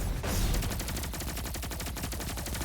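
Rapid bursts of weapon fire and explosive impacts from a Nova Bomb thrown in the video game Destiny 2, dense, loud and continuous, with a sharp blast at the start and a steady rattling barrage after it.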